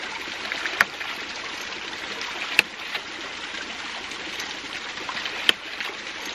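A water ram pump's valve is clicked by hand a few times, giving three sharp, sparse clicks over a steady rush of flowing water outdoors.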